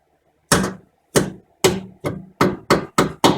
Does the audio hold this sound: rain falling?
no